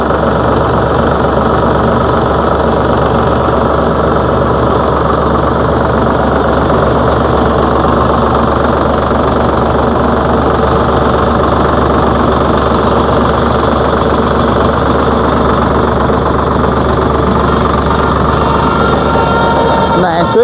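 A car engine idles nearby with a loud, steady, low rumble and vibration that holds constant throughout, while voices talk over it.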